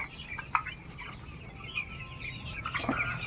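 Young broiler chicks on a small poultry farm give a steady, high, overlapping chatter of cheeps and clucks, fairly near, with no talking.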